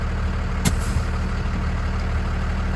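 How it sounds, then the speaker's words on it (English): A truck's parking brake releasing gives a single sharp burst of air brake hiss against the steady idle of a heavy engine, with one fainter puff of air just after. "we're going to once again release the parking brake"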